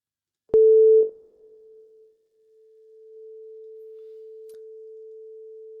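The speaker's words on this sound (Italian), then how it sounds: "basta inserire un test generator prima, un segnale, una sinusoide prima del plugin" A steady sine-wave test tone from a test generator feeding a channel-strip plugin starts with a loud burst, drops quiet, then holds as a constant pure pitch at moderate level.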